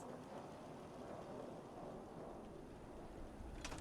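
Radiation storm in the video game Fallout 4: steady, dense rain hiss with a low rumble of thunder throughout, quiet and continuous, with a brighter burst of noise near the end and no talk.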